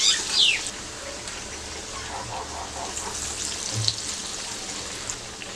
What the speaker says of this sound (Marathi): आता हे आपण व्यवस्थित फ्राय करून घ्यायचे आहे सगळ्या बाजूनी